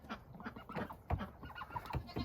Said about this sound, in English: Here, I'll show you these ducks again.